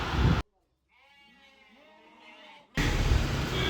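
A sheep on a farm bleats once in a long, wavering cry, fairly close and clear, set between louder bursts of other sound before and after.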